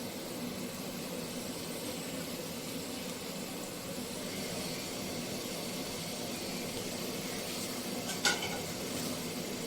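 Okra goes into sizzling masala in a frying pan, a steady close hiss of frying under light stirring, with one brief metallic clink near the end.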